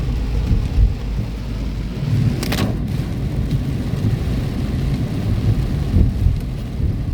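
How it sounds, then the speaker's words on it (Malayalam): Heavy evening rain pours down in Mecca with a dense, continuous hiss of falling water and low rumbling underneath, close and steady throughout, no voices. "പക്ഷെ അത് ഗംഭീരമായിട്ടുള്ള മഴയാണ്"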